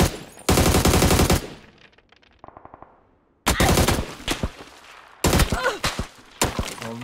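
Loud, close gunfire rattles through a PUBG firefight in several bursts of rapid shots, separated by brief quieter gaps with scattered thuds and pings.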